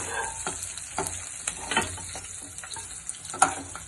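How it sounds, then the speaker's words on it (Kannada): Garlic and onion fry in a pan on low flame for a thondekai curry, a steady sizzle broken by repeated scraping stirs of the spoon, close and clear with no talking. "ಬೆಳ್ಳುಳ್ಳಿ, ಈರುಳ್ಳಿ ಬ್ರೌನ್ ಕಲರ್ ಬರೋವರೆಗೂ ಫ್ರೈ ಮಾಡ್ಕೊಳ್ಳಿ."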